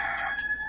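A chicken in Resident Evil 4 gives a single short, bright squawking cluck, close and alone.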